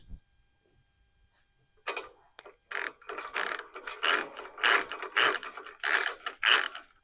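Ratchet clicking as 5/8 hex slider bolts are tightened on Harley-Davidson saddlebag guards, several rapid bursts of close, crisp pawl clicks after a quiet start, with no talk.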